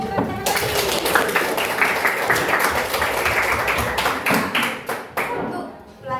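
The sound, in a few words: classroom students clapping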